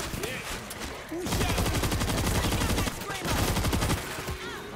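Loud, sustained automatic gunfire in the World War Z video game in New York, with rapid continuous bursts that barely pause and then resume, heavy and close throughout.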